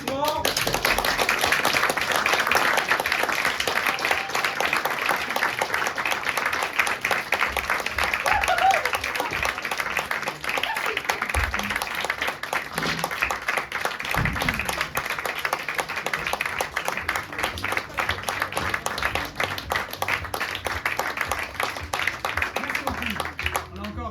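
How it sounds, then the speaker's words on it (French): A concert audience gives a sustained round of applause to welcome performers onto the stage, with dense clapping continuing for the full stretch. Voices and a few stage knocks come through underneath. "je vous demande de les accueillir avec un tonnerre d'applaudissements"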